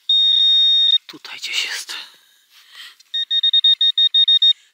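Metal detector sounding during a metal-detecting hunt: a steady electronic tone, then rustling as someone digs in soil, followed by a rapid series of short, loud beeps; a person whispers briefly.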